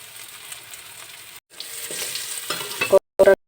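Eggplant, onion and potato fry in fish oil, a close sizzle with stirring scrapes that grows busier toward the end and is cut by a couple of abrupt silent gaps.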